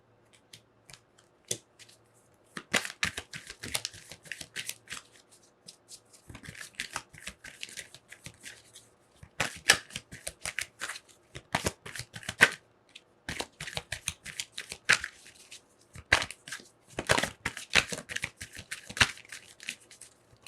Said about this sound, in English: but we'll give one more shuffle and we'll see.